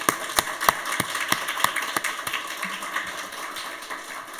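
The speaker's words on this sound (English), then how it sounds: "give one more big round of applause to all of our wonderful panelists" Scattered applause for panelists at a road safety awards ceremony: a modest number of distinct, separated hand claps at an uneven pace, tapering off over a few seconds over a low ambient hum.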